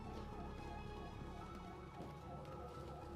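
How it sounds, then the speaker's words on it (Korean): An ambulance siren wails continuously at a safety drill, its rising and falling tone steady and fairly distant, with no voices over it. "병원으로 이송하기 위해 구급차가 대기 중입니다."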